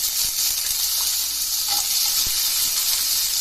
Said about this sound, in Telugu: ఇదే పాన్లో ఇంకొంచెం నూనె వేసుకొని, కొద్దిగా 1 స్పూన్ వేసుకొని నూనె, కొబ్బరి కూడా కొద్దిగా ఫ్రై చేసుకోవాలండి